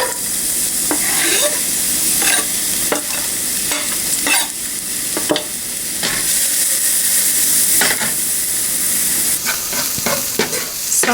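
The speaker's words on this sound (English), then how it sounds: "I'm going to add a little bit of avocado oil, about 1 to 2 teaspoons, and start sauteing my onions" Onions sautéing in a small splash of avocado oil in a pan over medium heat, a steady close sizzle broken by repeated scraping stirs throughout, with no talking.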